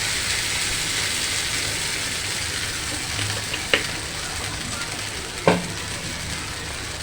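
Shrimp dopiaza fries in mustard oil in a pan, giving a loud, steady sizzle throughout, broken by two brief clinks of a utensil stirring against the pan.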